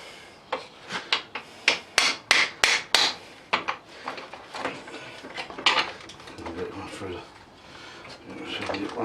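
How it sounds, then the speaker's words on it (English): A series of sharp metallic hammer blows driving a punch through a rusted minimoto frame, about a dozen in quick rhythm, followed by scraping and rubbing of metal parts close by. "I'll just get a punch and we'll hammer it"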